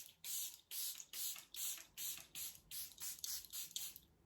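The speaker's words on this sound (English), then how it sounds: "I'm gonna go ahead and add some setting spray" Charlotte Tilbury Airbrush Flawless setting spray misted in about nine quick, even bursts, each a short hissing puff close by with brief gaps between, steady in rhythm and with no talking.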